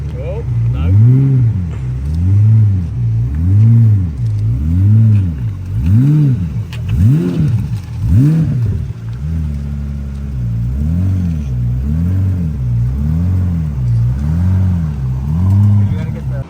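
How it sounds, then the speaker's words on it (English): A Ferrari LaFerrari Aperta hypercar on the streets of Monterey, its engine revving in a string of loud rising and falling pulls close by, then settling into a steady rumbling drone, with voices talking over it. "The Laferrari Aperta."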